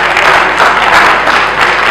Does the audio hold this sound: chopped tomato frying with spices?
no